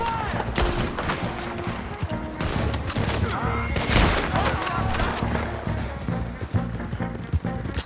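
Shootout gunfire in the Red Dead Redemption 2 game, a dense fusillade of repeated shots over galloping horse hooves, loud and continuous, with shouting voices mixed in.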